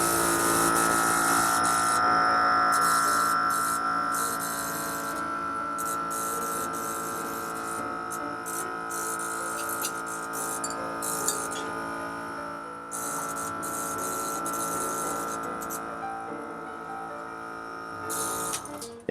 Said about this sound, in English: And we'll turn on the vacuum and do the same thing.